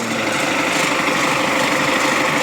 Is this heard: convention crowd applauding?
no